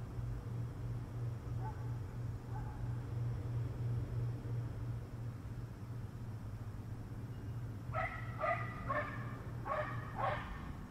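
Several short bursts of dog barking in the distance near the end, following a steady low hum of background noise.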